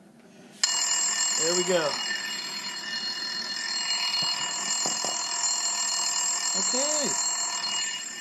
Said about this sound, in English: make sure it goes all the way down to the buzzer